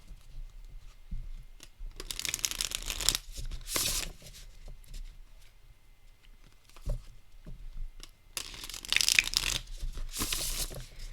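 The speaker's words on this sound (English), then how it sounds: "All right, shuffle demonstration." Crisp riffling bursts of tarot cards being shuffled, two clusters separated by a quiet pause, close and fairly loud with soft handling rustles between.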